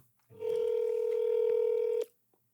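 A telephone sounding a single steady tone for about a second and a half as a call is placed, clear and close, with quiet surroundings before and after.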